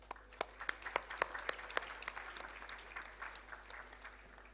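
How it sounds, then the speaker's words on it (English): Scattered applause from a convocation audience at a university graduation, sharp separate claps at first thinning into a lighter patter, fairly faint and distant with no talk over it. "once again, a big round of applause for everybody here."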